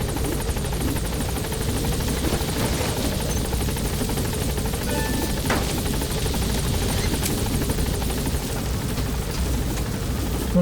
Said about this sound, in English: Support Request helicopter immediate has removal.